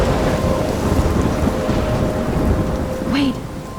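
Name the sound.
storm with thunder and rain in video game Life Is Strange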